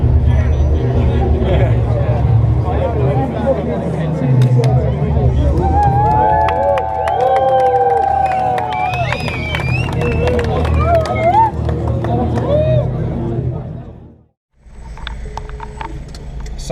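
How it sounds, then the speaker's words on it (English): Car traffic in central Prague heard from inside a vehicle, with a steady engine and road rumble, passing traffic noise, and people talking close by over it before a brief drop near the end. "Sat here in Prague traffic, as you could probably hear and see"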